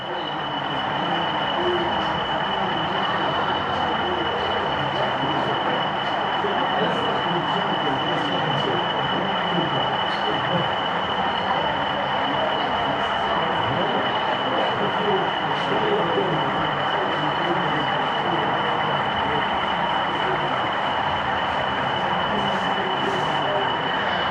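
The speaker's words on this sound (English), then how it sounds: "So we're just going to finish with a couple of shots of various locos from various locations running" Model railway locomotives run around an exhibition layout, giving a continuous steady rumble and whir with a constant tone over a busy hall ambience. Faint voices can be heard in the background.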